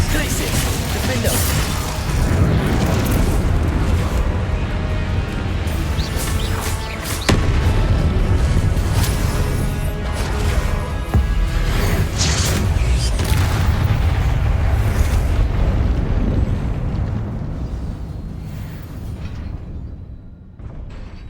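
Spell blasts and booming impacts from a Hogwarts Legacy combat fight, loud dense rumbling explosions and crashes layered continuously with game music before fading toward the end.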